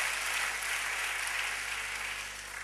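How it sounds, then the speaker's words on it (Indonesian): A church congregation applauds during an Indonesian-language sermon, a steady, dense wash of clapping that holds evenly for a few seconds and fades slightly at the end, with no voices over it. "Yang percaya berikan tepuk tangan bagi Allah kita"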